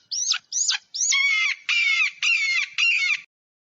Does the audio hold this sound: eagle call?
yes